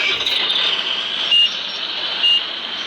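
A Hitachi excavator gives two evenly spaced reversing beeps, loud and close, over a steady mechanical engine hum.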